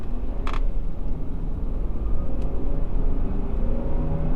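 Land Rover LR3 with a 4.4-liter V8 accelerating hard, a continuous loud low engine roar from inside the heavy SUV, steady throughout with a couple of brief ticks, no talking.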